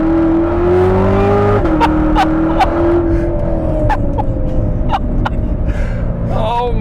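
A 2019 Chevrolet Corvette ZR1 engine pulls hard at high speed, heard from inside as a loud steady roar whose pitch climbs, dips briefly at a shift, then climbs again, with clicks and a short squeal near the end.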